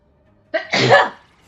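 A single sneeze during a live stream, a short inhaled lead-in followed by a loud, forceful burst that fades within about half a second, close to the microphone.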